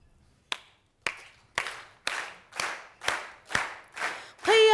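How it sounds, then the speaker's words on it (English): Rhythmic clapping keeps time at a Perth business event: about eight sharp, evenly spaced claps, roughly two per second, each ringing briefly in the room, followed by a sustained tonal sound at the end. "So I'm going to start the beat and get you guys to clap along"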